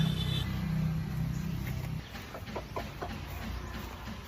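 A chicken clucks softly in the background over steady outdoor noise, with a few short faint calls scattered through.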